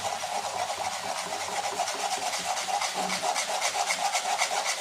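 Banana flower and egg stir-fry stirred in a pan, giving a steady scraping, rubbing sizzle with rhythmic strokes that continue evenly for several seconds, with no talking.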